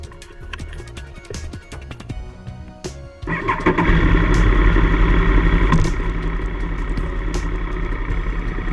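A motorcycle engine cranks and fires up about three seconds in, then settles into a loud, steady idle close by, with some rattling and clicks beforehand.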